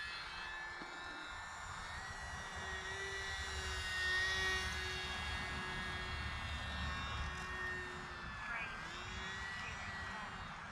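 A small E-Flite UMX Carbon Cub SS RC airplane flies tight turns, its electric motor giving a thin, steady whine that swells and fades at a moderate distance, while someone talks throughout.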